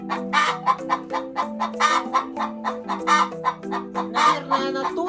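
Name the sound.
Maran hen cackling after laying an egg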